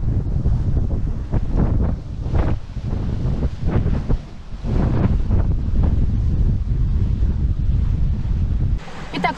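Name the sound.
wind blowing over a sailing yacht at sea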